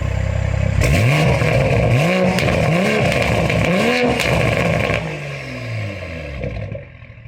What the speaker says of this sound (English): The exhaust valves are open.